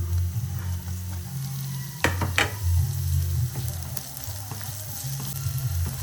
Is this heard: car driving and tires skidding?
no